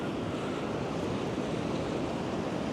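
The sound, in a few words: wind and heavy rain on Blackpool promenade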